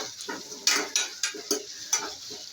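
Onion with ginger garlic paste sautéed in a pan for Kolhapuri chicken, a spoon scraping and stirring in about six sharp, evenly spaced strokes over a soft sizzle, close and clear with no talk.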